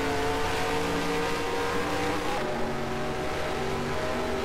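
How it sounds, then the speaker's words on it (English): A NASCAR Cup car engine in the NASCAR Racing 2003 video game drones loudly and steadily at racing speed, its high even tone holding with a slight pitch shift partway through and no talk over it. "Plus you get to hear what a NASCAR Cup engine sounds like at 240 miles an hour."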